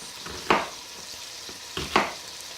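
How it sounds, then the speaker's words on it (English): A knife roughly chops a peeled onion on a cutting board: two sharp, close cuts about one and a half seconds apart, with a quieter tap between them and a faint background hum. "I'm just going to give these a real rough chop"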